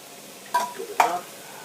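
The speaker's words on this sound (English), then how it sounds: "We are cooking this now, guys. Heating this tomato paste up." Tomato paste heating in a pan, a low hiss broken by two short scraping stirs close by, no talking.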